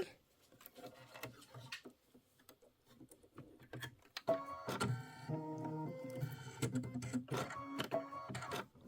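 A computerized embroidery sewing machine stitches a Kimberbell Christmas quilt block, its needle pattering steadily and loudly after a quieter start, with a rhythmic tapping drive and a few brief voice sounds near the beginning.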